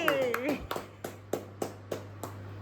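Hands clap at a small family anniversary celebration at home: a voice speaks briefly at the start, then roughly eight sharp, evenly spaced claps follow at a brisk, steady pace, fairly close.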